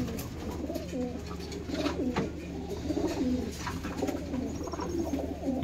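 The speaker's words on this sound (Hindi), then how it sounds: "ये लाल कबूतर बहुत गजब है" Soft, low cooing from several Punjabi pigeons, rolling on continuously and fairly faint beneath a murmur of ambient noise.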